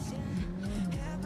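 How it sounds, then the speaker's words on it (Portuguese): Honda engine of a gourmet speedboat running, a steady low motor drone with rising and falling pitch sweeps, moderately loud throughout without talk. "Olha o motor do Honda."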